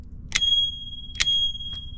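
An Ariel Rider Grizzly e-bike's handlebar bell rings two bright, clear dings about a second apart, followed by a fainter third tap, in a quiet setting.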